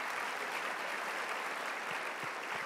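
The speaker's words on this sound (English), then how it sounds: "Let's give a big round of applause to Mitch and Lance for doing the great job" Steady applause from an evening awards-program audience honoring Mitch and Lance, a dense continuous wash of many hands clapping at moderate level with no talk over it.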